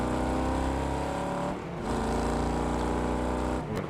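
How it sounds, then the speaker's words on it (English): A racing video game car engine holds hard against the rev limiter, a loud buzzing drone with a brief dip midway before the high-revving stutter resumes, no talk over it. "On the rev limiter."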